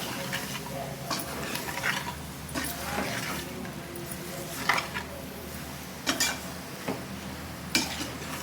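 Goat tripe curry with masala and chilli powder is stirred in a pot, a spoon scraping and clinking against the metal in irregular strokes over a low sizzle.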